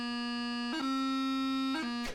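Bagpipe grace notes played on the beat over a steady drone: a sustained chanter tone broken by two quick ornamental flicks about a second apart, loud and alone.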